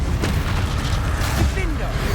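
Bombarda and Confringo spells burst in Hogwarts Legacy combat, a continuous rumble of booming blasts and crackles with a voice calling over the action.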